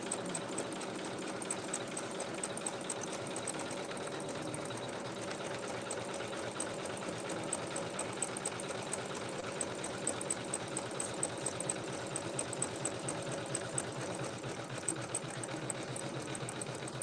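A sewing machine stitching a fabric nesting basket runs continuously with a fast, even mechanical whir and rapid needle ticking, steady throughout without pauses.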